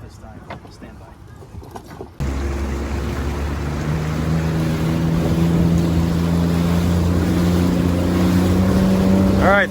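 A 2022 Yamaha VX Cruiser personal watercraft launched at a boat ramp with three riders aboard starts with a sudden jump into a loud, steady engine drone on the water, which holds close and strong to the end.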